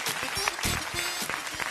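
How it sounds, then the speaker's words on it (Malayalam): A studio audience claps for a team, a short burst of brisk, close applause with a few voices mixed in. "ഹോനായി ടീമിന് കൈയടി"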